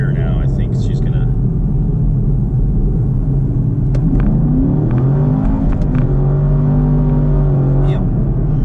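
A Camaro SS 1LE pulls hard in first gear, its rumbling engine note climbing in pitch as revs rise, loud and close under a steady low roar.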